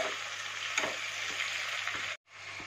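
Ginger paste frying in a pan for a fish and potato curry, giving a steady close sizzle with light stirring taps before the sound cuts out briefly near the end.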